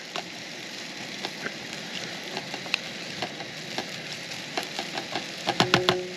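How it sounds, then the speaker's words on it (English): Steady sizzle of Montreal smoked meat frying in a pan outdoors in winter, with scattered pops and crackles growing livelier toward the end, heard up close with no talking. "we'll put that meat in there, our Montreal smoked meat, and get that frying up in there"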